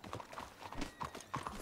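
A horse in a video game clip-clops with a quick run of hoofbeats and lets out a short whinny, quiet and a little distant, with no talk over it.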